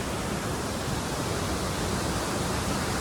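A waterfall heard from nearby outdoors, a dense, even roar of rushing water that stays constant throughout, with no voices.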